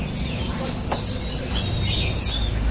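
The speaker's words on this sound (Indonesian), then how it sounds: "Terakhir sudah pertarungan burung kacer." Oriental magpie-robins (kacer) sing at a bird contest, bright chirps and whistled phrases scattered over a constant low rumble of crowd and background noise.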